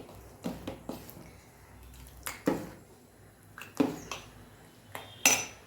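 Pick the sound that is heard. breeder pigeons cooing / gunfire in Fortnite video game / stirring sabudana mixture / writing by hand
stirring sabudana mixture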